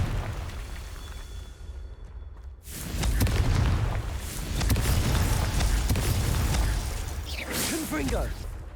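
The Confringo fire spell goes off in Hogwarts Legacy with a sudden loud whooshing blast that fills the scene with rumbling, crackling roar, continuing as further fiery bursts; a voice shouts briefly.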